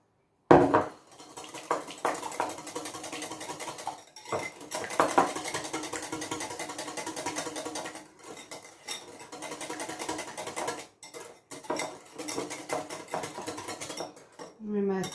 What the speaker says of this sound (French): Je vais prendre mon petit fouet et je fouette.